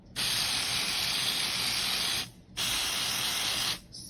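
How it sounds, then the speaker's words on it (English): Two close aerosol bursts of Sally Beauty Supply nail quick-dry spray, a long hiss then a shorter one after a brief pause. "I do always use this Sally Beauty Supply nail quick dry spray"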